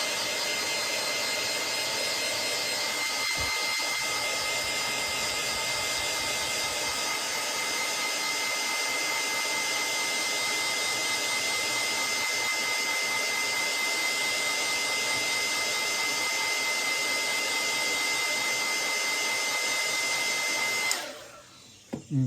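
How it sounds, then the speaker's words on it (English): A heat gun flash-drying fresh paint on a bluegill fishing lure blows a loud, steady, close roar for about twenty seconds before switching off abruptly at the end. "Now we will heat flash that to make sure everything's good and dry before we flip it over."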